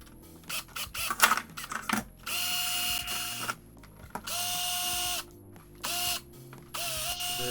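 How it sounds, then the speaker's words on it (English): A drill bores new vent holes in a carbon fiber trunk spoiler, with a few bursts of high-pitched whirring and grinding separated by pauses and handling clicks and rattles, heard up close. "drill some new vent holes higher up on the spoiler"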